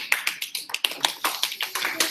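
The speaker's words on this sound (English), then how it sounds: "like how we clap for Hilton, but not for Sam." A small group claps together in a board meeting, a short burst of close, uneven hand claps that rings out alone, with no talk over it.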